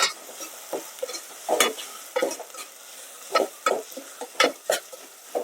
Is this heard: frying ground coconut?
yes